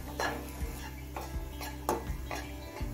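Carrots frying in a pan on high flame, where a spatula scrapes and taps the pan in a slow repeating rhythm over a faint sizzle and low background hum.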